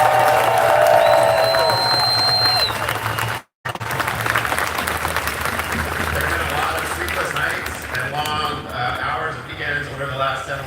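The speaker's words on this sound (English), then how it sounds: "I'd ask everyone to join me in a quick round of applause for the people doing this important work." A large crowd at the No Kings Day protest rally in Seattle applauds and cheers in a steady, dense wash of clapping that lasts throughout, briefly cut off near the middle.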